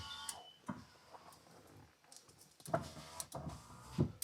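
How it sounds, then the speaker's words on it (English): Electric windows whir in short bursts inside an MK2 Golf GTI, several brief motor runs with clicks and thumps as the glass stops, close and fairly quiet, with no talking. "Windows work."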